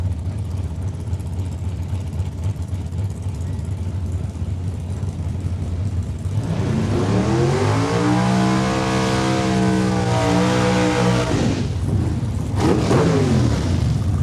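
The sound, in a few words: 4-cylinder Bantam race car accelerating at raceway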